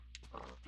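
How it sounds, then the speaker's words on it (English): A pig oinks in the block-building game Geomine, a few short grunting snorts over a steady low background hum, quiet and close. "Oh, I hate that pig so much"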